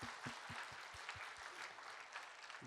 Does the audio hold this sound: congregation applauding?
yes